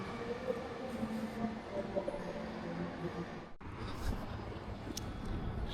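Train ride on a rail line in Macau, a steady rumbling cabin noise with a brief dip midway, continuing throughout at moderate level.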